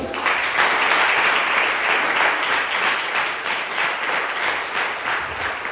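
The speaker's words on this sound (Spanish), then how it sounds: "¿Puede darle un aplauso al Señor?" Applause from a church congregation, a dense steady wash of many hands clapping that holds loud and even throughout, with no talking over it.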